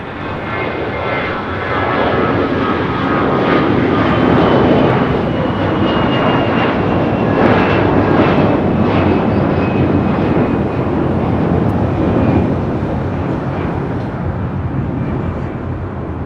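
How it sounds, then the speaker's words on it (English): Air Canada Airbus A321 in Star Alliance livery departing LAX for Toronto, a sustained loud jet engine roar swelling as it powers down the runway, then slowly easing as it climbs away. "792 taking off to Toronto on an A321 in the Star Alliance livery"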